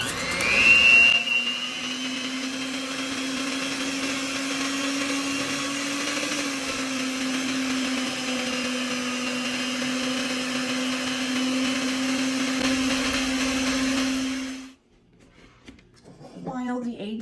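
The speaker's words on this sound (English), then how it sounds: "let's beat this until it turns into a yellow consistency on high speed" Electric mixer beating eggs with a pinch of salt on high speed for a vanilla bundt cake, a loud steady whine lasting about fifteen seconds before cutting off, followed by faint clatter.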